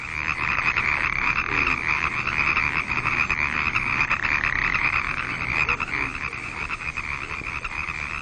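A dense chorus of frogs croaks at a pond in spring, a steady unbroken trilling wall of calls at moderate loudness with no voices.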